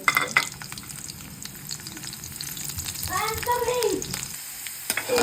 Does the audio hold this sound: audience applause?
no